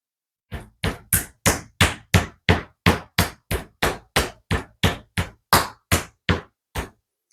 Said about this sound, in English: Now we can pound these out.